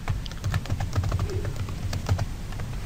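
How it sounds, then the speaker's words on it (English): Keys clack in an irregular burst as a password goes in on a computer keyboard, a steady run of light clicks close by, with a low hum underneath. "I type a standard password that meets my domain password policy complexity"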